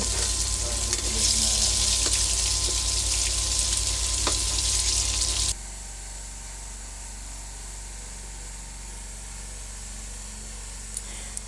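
Tofu rinsed under a running kitchen tap for chop suey, a steady loud rush of water for about five seconds that cuts off abruptly, leaving quieter room hum.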